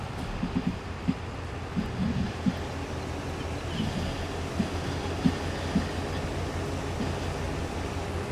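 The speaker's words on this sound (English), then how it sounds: "Train is down to our left over that way." A train passing in Farming Simulator 22 on the Haut Beyleron map, a low steady rumble with faint rhythmic clicks, heard at a distance and fairly quiet throughout.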